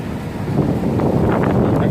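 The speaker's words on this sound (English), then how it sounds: "And Salakio, it is a very windy day" Strong wind at an outdoor camp buffets the microphone with a loud, continuous low roar and rumble that stays constant throughout, with no clear speech.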